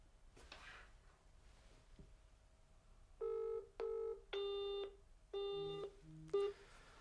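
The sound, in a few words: engaged tone when dialing a blocked number on a phone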